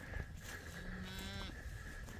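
Cattle on a farm moo once as they are being moved, a single drawn-out low call lasting about half a second over steady outdoor background noise.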